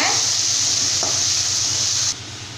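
Steady sizzling of onions sautéing in a hot pan for a cabbage stir-fry, with a soft stir partway through; the frying hiss stops abruptly near the end.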